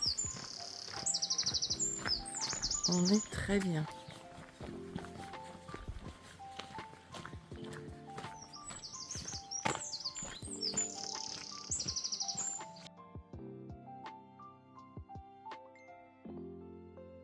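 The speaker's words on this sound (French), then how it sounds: "Les oiseaux." Small birds chirp and trill in quick, bright bursts across open countryside near Fonfría on the Camino de Santiago, with footsteps crunching now and then and a brief spoken remark in French.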